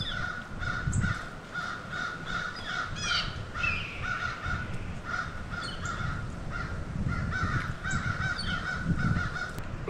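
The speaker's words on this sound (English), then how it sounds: "The crows just add to the creepiness." Crows caw outdoors in scattered harsh bursts, with several birds calling at different distances over continuous ambient noise, no voices.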